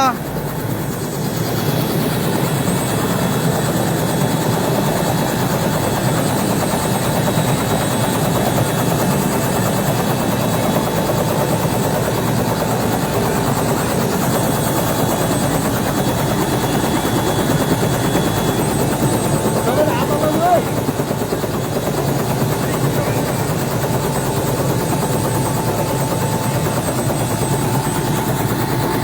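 A helicopter takes off from a newly opened helipad at a health building ceremony, its rotor and engine droning loudly and steadily the whole time.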